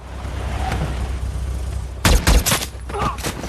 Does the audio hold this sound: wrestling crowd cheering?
no